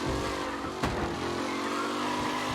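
Race car engines in a race in the video game Mafia Definitive Edition drone loudly and steadily at sustained speed, with a brief sharp burst near the start and constant engine roar throughout.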